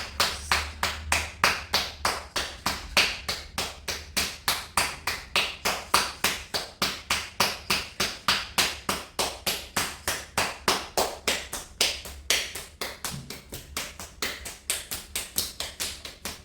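Fifty rhythmic claps of a dholak-style clapping yoga exercise, sharp and evenly paced at about three per second, close and steady throughout with no talking over them.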